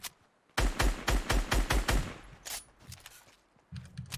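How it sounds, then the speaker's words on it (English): Gunfire in the video game Fortnite, a rapid burst of about eight loud close shots in quick rhythm, followed by a few scattered, weaker shots and rumbling noise. "Where is this kid shooting me from?"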